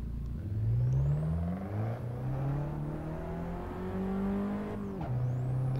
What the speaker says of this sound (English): Let's do this time attack in this little car.